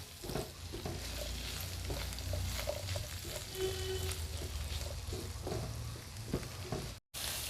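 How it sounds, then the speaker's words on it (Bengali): Beef stir fry base of chopped tomato and mushroom frying on high heat in a pan, a steady close sizzle with occasional stirring scrapes, no talking. "হাই হিটে ভেজে নেব।"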